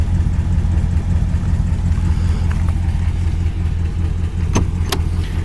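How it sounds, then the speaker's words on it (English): A 1956 Ford two-door car engine idles steadily with a low, even rumble, close by, with a couple of faint clicks near the end. "Engine sounds great."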